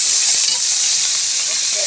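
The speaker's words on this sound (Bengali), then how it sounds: "এখানে কড়াইটা গরম হওয়ার পরে পেঁয়াজ বাটা রসুন বাটা দেওয়া হয়েছে।" Onion and garlic paste sizzling in a hot wok for a fish curry, giving a loud, continuous hissing sizzle that stays even from start to finish.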